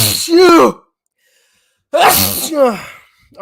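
A person sneezes loudly, then goes quiet for about a second before a second sneeze-like burst with breathy vocal sounds follows.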